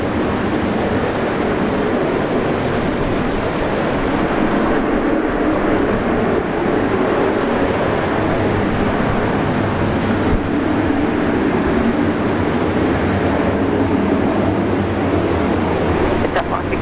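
A Fokker airliner takes off at Brisbane Airport in low visibility, its engine roar a steady, broad rumble that fills the whole stretch without a break.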